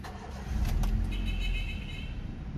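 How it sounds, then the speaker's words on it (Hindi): A 2006 Honda Civic VTi Oriel with about 185,000 km on it starts up, a brief crank catching into a steady low idle that continues nearby and fairly quiet. "ये गाड़ी स्टार्ट कर दी मैंने"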